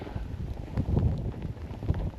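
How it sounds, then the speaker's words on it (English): Hard wind gusts through snowy woods, a rough broadband roar that swells and buffets the microphone in uneven surges, with no voices. "Out here the wind's blowing pretty hard"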